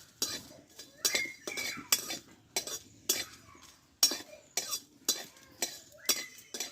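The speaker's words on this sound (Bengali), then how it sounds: "শুকনো খোলায় আমি দিয়ে দিলাম একটু হালকা করে একটু আমি ভেজে নেবো" Fennel seeds dry roasting in an empty pan while a spatula scrapes and stirs them, giving a steady run of close, rhythmic scraping strokes with light metallic clinks and no talking.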